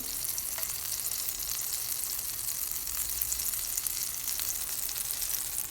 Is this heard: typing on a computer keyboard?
no